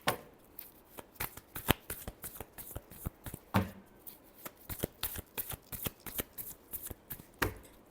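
Tarot cards being shuffled by hand make a rapid series of crisp flicks and riffles, close and distinct, with no talk.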